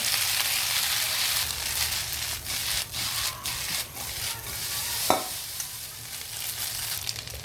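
Spaghetti with soy sauce being stirred in a hot pan, a steady soft sizzle under repeated scraping and rubbing strokes of a spoon, with one sharper clink near the end; no talking.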